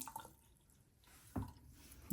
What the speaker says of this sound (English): I'm gonna do a little leak test here and set the water a little slow